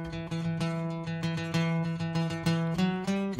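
A band plays live in a radio studio, giving a dense, sustained ensemble sound with rhythmic accents and steady, rich tones throughout, with no talking over it.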